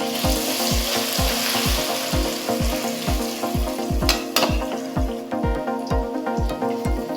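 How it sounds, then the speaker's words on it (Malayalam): Marinated beef sizzles loudly in hot oil with curry leaves, a steady close frying hiss broken by regular, rhythmic stirring strokes against the pan, with no talking. "ഇനി നമ്മൾ മാരിനേറ്റ് ചെയ്ത് വെച്ചിട്ടുള്ള ബീഫ് അതിലേക്ക് ചേർത്ത് കൊടുക്കാം."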